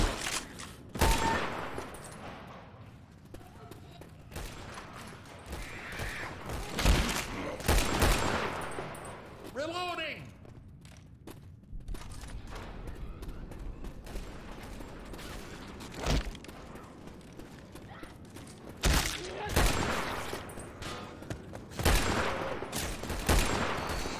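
Video game gunfire comes in scattered loud bursts and single sharp shots, mixed with mechanical clanks and creaks, over stretches of quieter background.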